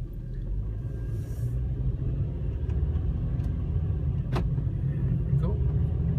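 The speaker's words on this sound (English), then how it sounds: "just want to take you for a quick spin" A 2007 VW Rabbit driving down a block, heard from inside as a steady low road rumble and engine drone with a few faint clicks and knocks.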